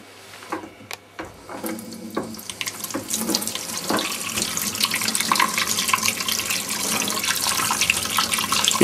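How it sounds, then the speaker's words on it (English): Warm tap water runs over an etched photo-etching plate as it is rinsed in a sink, starting with a few clinks and handling knocks, then building into a steady, close splashing stream with no talk. "So now we're going to rinse it in warm water and dry it."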